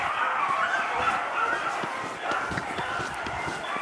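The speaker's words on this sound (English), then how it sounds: "he ran, and the beagles pounded" Beagles chase a big swamp rabbit, giving a noisy chorus of yips and bays over steady outdoor rustle, with a voice talking at moments.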